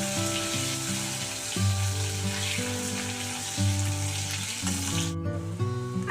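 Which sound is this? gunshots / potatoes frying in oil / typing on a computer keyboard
potatoes frying in oil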